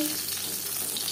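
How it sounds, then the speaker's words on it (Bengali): Fish pieces deep-frying in oil until crispy, with a brief, dense, steady sizzle close up and no voices. "পরের মাছ একইভাবে ভেজে নেব।"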